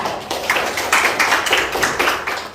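Students in a university classroom clap for a presenting group, with close, fairly loud claps landing in a quick, even rhythm for a couple of seconds.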